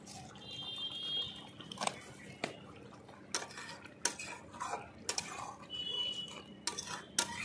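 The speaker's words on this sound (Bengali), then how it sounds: "ভালো করে আমি নাড়িয়ে দেব" A spoon scrapes and clinks against a metal pot as a Bengali curry of moringa drumsticks and bean seeds is stirred, in several distinct knocks and scrapes with a faint whine and quieter gaps between.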